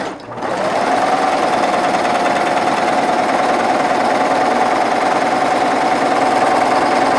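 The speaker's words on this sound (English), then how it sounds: "I'm going to lower the presser foot and step on this, and it's going to cut the fabric and then bind it as I sew" A sewing machine with a cutting and binding attachment trims and binds fabric edges, its motor whirring in a steady, continuous drone at close range after a brief start, with no talking over it.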